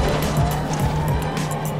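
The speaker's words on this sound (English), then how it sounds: "Now slam on the brakes" Car braking hard in a racing video game, steady engine drone with squealing tire bursts over a short stretch, at moderate loudness and without talk.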